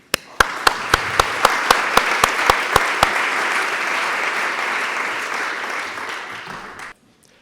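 A lecture audience applauds to welcome a speaker on Italian Baroque art and Jesuit spirituality: a few sharp opening claps build into steady, dense applause lasting about seven seconds, then stopping abruptly.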